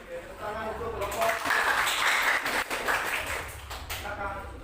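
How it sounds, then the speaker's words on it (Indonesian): Classmates give a group of students a round of applause in a teacher-training classroom session: a brief voice, then several seconds of dense, steady clapping from a roomful of people that tapers off. "Tepuk tangan untuk kelompok."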